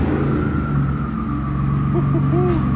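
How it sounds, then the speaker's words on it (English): Lifted truck's engine and turbo running steadily at close range, a continuous low rumble with a faint high whistle riding over it throughout, no talk. "Turbo sound good, bro."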